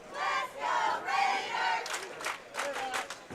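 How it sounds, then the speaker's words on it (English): A big crowd at a high school bowling state team final roars and cheers in sustained swells, then breaks into sharper bursts of shouting and clapping, moderately distant in a large hall. "Big crowd on hand for Wapahani here."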